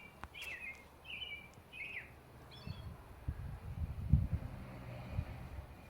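A few quick robin chirps ring out early, then fade as low rumbling wind noise and handling sounds take over, in a beeyard in Flatrock, Newfoundland.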